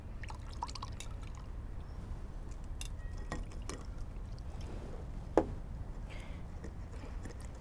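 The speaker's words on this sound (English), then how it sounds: "Feel like it could use another splash of water though." Water splashed and poured over tomato seeds being rinsed clean, heard as faint, scattered drips and light liquid trickles against a low background, with one brief sharper splash.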